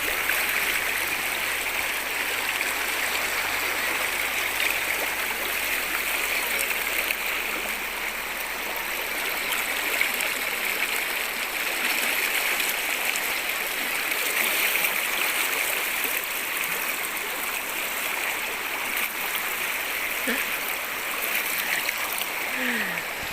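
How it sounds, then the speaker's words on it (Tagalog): Strong, fast river current rushing near Puerto Princesa, Palawan, during the rainy season, a steady, loud, unbroken roar of churning water throughout, with no voices heard. "Sobrang lakas ng agos ng tubig."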